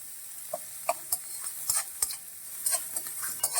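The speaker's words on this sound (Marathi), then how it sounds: "कांद्याची फोडणी आपण कमी गॅसवर करत आहोत." Chopped onions fry on low gas for a curry tempering, giving a soft steady hiss while a utensil stirs and taps against the pan in irregular clinks.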